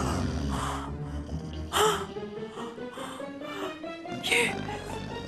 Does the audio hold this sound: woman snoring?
yes